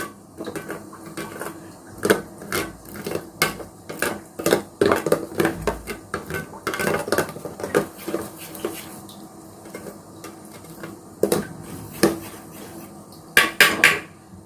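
Goat milk soap mixture being mixed in a vessel, with irregular metallic clinks and scraping of a utensil against the container, close, coming in uneven busy bursts with brief pauses.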